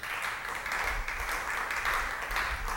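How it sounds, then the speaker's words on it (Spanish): A crowd applauding at a Spanish-language religious talk, a steady wash of clapping held at an even level for a few seconds. "Sigan aplaudiendo"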